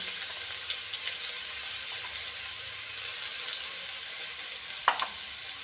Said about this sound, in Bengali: পেঁয়াজটাকে ভালো করে ফ্রাই করবে